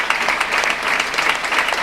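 Steady applause from a forum audience honoring a film's protagonists, a dense continuous wash of clapping filling the whole stretch at a fairly loud, even level.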